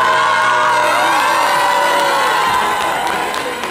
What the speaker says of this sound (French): je vais vous inviter à crier « Wow !»